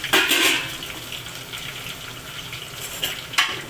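Ginger, garlic and green chili sizzle in hot oil for a mango pickle, a steady close hiss with a louder burst at the start and brief spatters near the end.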